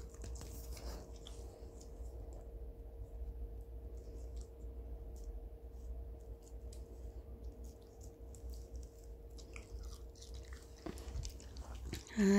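A dog chews and bites strawberries up close, soft wet munching and small crunches repeating over a steady low hum, with a brief louder knock at the end.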